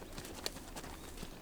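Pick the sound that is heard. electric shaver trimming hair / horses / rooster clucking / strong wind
horses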